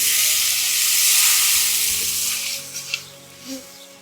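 Spring water poured into a hot wok with chili, garlic and spicy sauce, giving a loud, steady, close sizzling hiss that fades slightly toward the end, with small bubbling pops.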